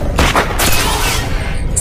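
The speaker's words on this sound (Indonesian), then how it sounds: "Dan Megan pun beberapa kali menembakinya." Pistol shots fired several times in a horror film scene, heavy booming reports in quick succession with a rumbling tail, loud and close.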